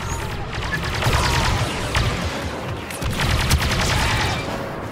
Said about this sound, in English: Stay here and lay down cover fire.